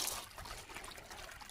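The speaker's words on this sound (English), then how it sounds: "I'll say just a little bitty waterfall." A small waterfall over a vein of iron in a river trickles and splashes with a steady, faint bubbling wash and no voices.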